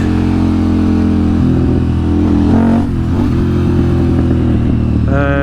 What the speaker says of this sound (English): it kind of runs more smooth, a bit of popping on a deceleration, letting off the gas